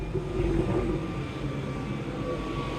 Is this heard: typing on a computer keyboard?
no